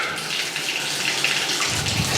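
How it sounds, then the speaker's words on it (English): Water runs steadily from a house tap into a draining sink, a continuous close splashing rush that grows fuller and lower near the end, with no talking. "We'll turn the water on."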